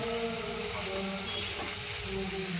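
Peas and vegetables are mixed in a hot pan for khichuri, giving a steady, close sizzle with soft stirring scrapes throughout.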